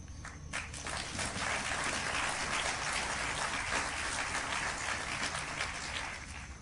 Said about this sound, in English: Delayed applause is better than no applause.